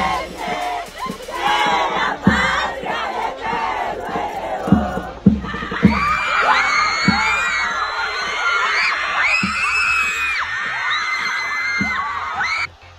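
Crowd of female fans screaming and cheering in Peru as a singer waves from a hotel balcony, sustained high-pitched shrieks and whoops with sharp loud bursts, dense and continuous throughout.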